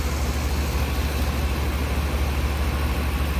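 A 2006 Lennox T-Class 2-ton heat pump runs in heat mode, its compressor and fan making a steady low hum with a broad whooshing airflow, close and constant throughout.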